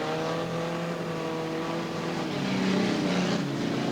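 Race cars roar loudly and continuously as they sweep close beneath a trackside commentary box and bounce off the fence, the engine drone rising in pitch toward the end.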